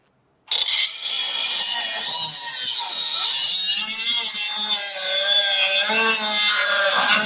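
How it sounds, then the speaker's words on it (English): A Ryobi HP brushless cordless angle grinder spins up abruptly and holds a steady, loud, high-pitched whine with a rough grinding texture throughout, and no voices are heard. "I'm going to say these angle grinders from Ryobi, and this is the HP. This is the brushless version."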